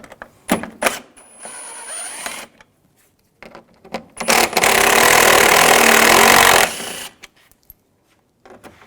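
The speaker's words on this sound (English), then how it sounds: "We're going to take these screws off up top. I'm going to use a T30 socket." Headlight screws come out of a 2006-2010 BMW 550i with a T30 socket on a power tool, heard as close clicks and short whirs followed by a louder sustained whirring run, then a few taps.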